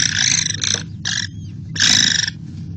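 American kestrels calling at a nest box: bursts of shrill, rapid high-pitched calls in several rising and falling runs, fairly close and loud over a steady low background rumble, with no talking.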